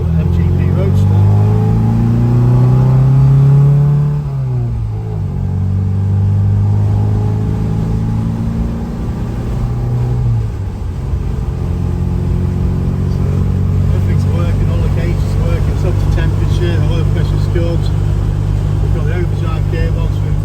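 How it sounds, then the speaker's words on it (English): A 1977 MG MGB Roadster, a black manual petrol car with an overdrive gearbox, drives on the road with a steady mid-pitched engine drone that rises and falls through gear changes, loud and continuous throughout. "we'll just take you for a course on the road. The little MGB Roadster."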